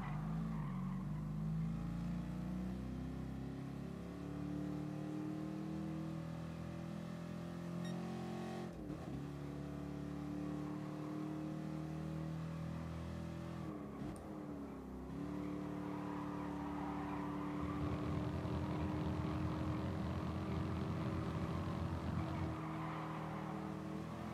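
Toyota race cars in the video game Gran Turismo Sport roar steadily with rising and falling engine pitch through gear changes, a continuous loud drone with brief tire scrubbing and no talking.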